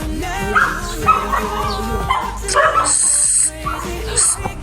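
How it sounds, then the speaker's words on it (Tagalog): Dog named Clifford barking and yipping in short bursts under ongoing talk, with a high whine or beep partway through; the barks are moderately close and mixed with voices. "At ang aso ng gugulo."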